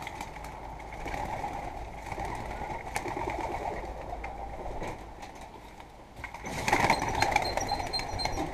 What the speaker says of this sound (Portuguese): Voem, pombos, voem.